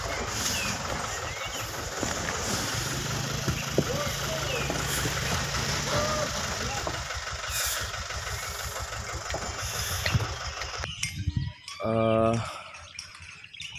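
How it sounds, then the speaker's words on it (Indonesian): A dump truck's diesel engine rumbles steadily at a sand mine, a continuous low drone with outdoor ambience and birds, easing off near the end as a brief tonal burst and a nearby voice come through. "dam truk yang masuk tambang ya."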